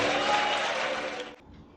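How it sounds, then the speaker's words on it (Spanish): Applause from a church congregation praising the Lord, a dense steady wash of many hands that fades out toward the end. "¿Cuánto le da un aplauso al Señor?"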